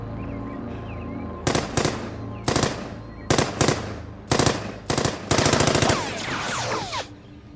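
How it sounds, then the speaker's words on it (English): Sniper gunfire in a film, loud close bursts of sharp cracks coming in quick repeated volleys with brief gaps, a final rapid string, then a fading echo and no speech. "It's a damn sniper."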